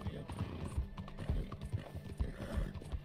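Rhythmic clip-clop of horse hooves trotting on a hard surface in the video game Red Dead Redemption 2, close and steady, with faint voices and background noise underneath.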